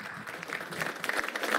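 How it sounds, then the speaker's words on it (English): Brief burst of audience applause at a Black History Month evening celebration, moderately loud and building slightly over a second and a half. "Can we just give a round of applause for yourselves for all being here?"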